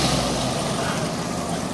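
A Jeep engine runs steadily close by at a car show appreciation day, a continuous broadband rumble and road noise with no break across the short stretch.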